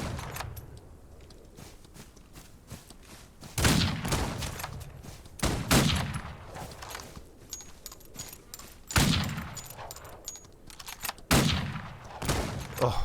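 Gunshots ring out in a Western video game, Outlaws of the Old West, as loud broadband blasts at roughly two-second intervals with softer shots and low background rumble between them.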